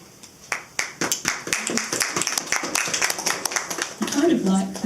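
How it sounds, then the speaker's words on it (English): An audience at a political poetry reading on environment and climate change claps between poems, a burst of scattered hand claps that thickens into steady applause, with some voice mixed in toward the end. "I kind of like clapping because it clears the air between the poems."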